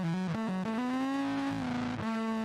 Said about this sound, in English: you're gonna kick on the distortion